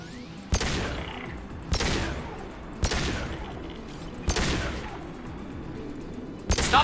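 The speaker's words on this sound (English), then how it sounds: "Stop shooting, Shepard." Gunfire in the sci-fi shooter game Mass Effect 2 comes as five sharp shots spaced about a second apart, each decaying into a rumbling echo over a steady ambient background.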